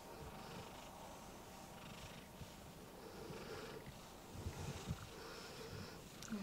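Soft, continuous low purring rumbles steadily throughout, close by and quiet, with a few faint snuffles near the end.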